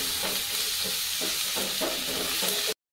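Pieces of squash frying in a pan with aromatics, a soft continuous sizzle with faint periodic stirring scrapes, steady and close, no voices.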